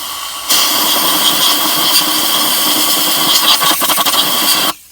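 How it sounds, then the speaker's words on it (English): A compressed-air nozzle blows out a spark plug well on a Dodge Ram 1500 4.7L engine, giving a loud, sustained hissing blast that starts abruptly and cuts off after about four seconds. "You're going to grab your compressed air again."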